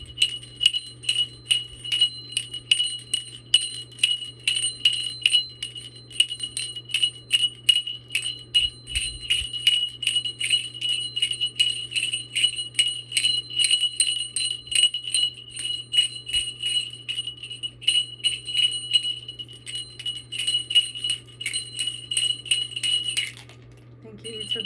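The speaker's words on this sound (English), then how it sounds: "thank you to the bell" A bell struck repeatedly in quick, steady rhythm during a crystal energy session, each bright ringing strike close and clear over a low steady hum, stopping abruptly near the end.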